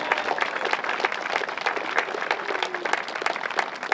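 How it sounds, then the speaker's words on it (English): A crowd at a Union Pacific event in Grand Island claps together in a lively burst, a dense patter of many hands with sharp individual claps standing out, sustained for a few seconds. "I'd like everybody to put their hands together for Scott and Deanna Frankfurter"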